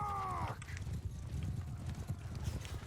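In Mount & Blade Bannerlord, horse archers' mounts charge with a rumbling clatter of hooves over low battle noise, after a brief whinny-like tone at the start.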